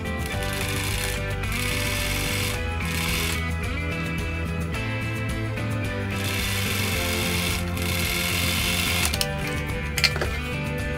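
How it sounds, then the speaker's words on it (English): A sewing machine stitches a straight seam across the top of a fabric lining for a crocheted purse, running as a steady, continuous mechanical whir at close range throughout, with no talking. "You are going to sew a straight line across the top"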